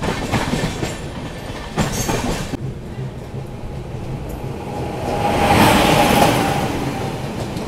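Amrit Bharat Express passenger train rolling into Ghaziabad Junction, heard from onboard: steady rumbling wheels with clickety-clack and a swelling roar toward the end, loud and continuous.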